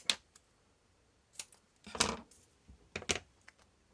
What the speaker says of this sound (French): je vais y mettre un petit morceau d'adhésif.